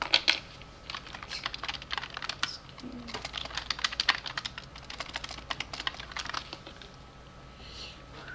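Computer keyboard typing in a notepad during a live history stream, a fast, irregular patter of close, crisp key clicks in bursts, pausing briefly before thinning out near the end.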